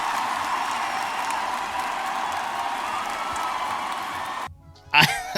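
A live concert audience at the 2024 MTV EMAs applauds and cheers in a dense, steady wash of clapping that cuts out briefly near the end before a loud burst returns.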